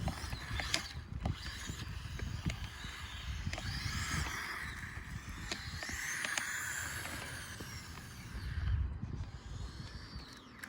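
Small modded Losi Micro B RC car whirring with a metallic gear whine on a road, speeding up and slowing in sweeping passes, faint but continuous, with occasional ticks and clicks.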